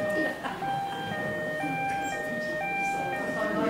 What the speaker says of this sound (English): is that someone's mobile? Yeah. That's a new one. It sounds like the old fashioned Z cars.